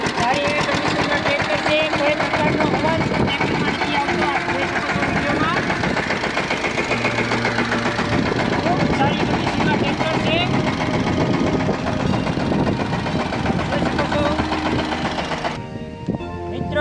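A used 2013 Yuvraj 215 tractor with running hydraulics, its engine chugging steadily with a rapid, even mechanical clatter throughout, while someone talks over it; the engine cuts out near the end.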